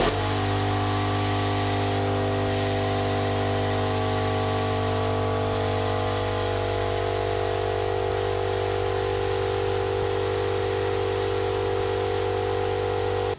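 Old, rotten fuel spraying out under pressure and missing a bucket, heard as a continuous loud hiss layered over a steady low mechanical hum, with no talk throughout.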